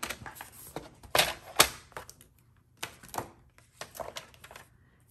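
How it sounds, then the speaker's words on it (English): A paper trimmer slices through a sheet of paper for a split-front card, with bright, crisp cutting strokes mixed with clicks and handling clatter from the trimmer, close and fairly loud with no voices. "So I'm just going to line those up in my paper trimmer channel and cut that."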